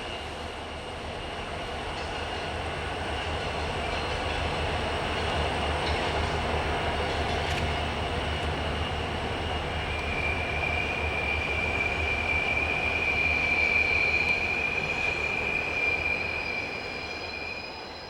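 A B&O helper locomotive set drops down the steep Newburg grade, rumbling steadily as it passes, with a loud, sustained metallic wheel squeal rising over the roar toward the end and no voices.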